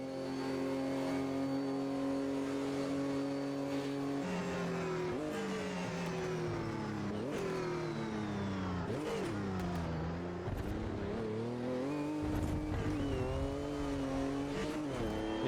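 Race car in the Automobilista 2 racing game, an engine revving up and down through repeated gear shifts and braking for corners, loud and continuous, with a brief tire squeal and no talk.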